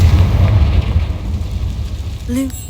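A Confringo fire spell explodes in the Hogwarts Legacy video game: a loud, deep boom that rumbles on for a couple of seconds, then a short bright tonal chime near the end.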